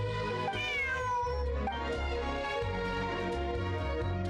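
A cat in a video game meows in a long, clear, wavering cry that carries through the whole stretch, close and loud over a steady tonal backdrop, with no talking.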